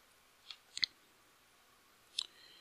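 Computer mouse clicking three times, sharp and close in a quiet room, with two clicks in quick succession and one more after a short pause.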